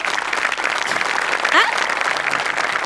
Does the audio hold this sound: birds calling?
no